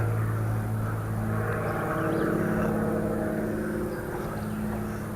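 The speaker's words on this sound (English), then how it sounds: "that thing is making a lot of noise. That plane is way up there." A high-altitude airplane passes overhead outdoors, a steady, loud low drone that swells slightly and then eases off, alone with no talking.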